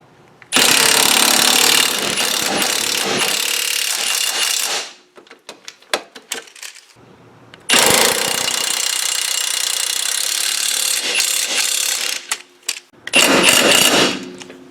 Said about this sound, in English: We're gonna tighten all these down.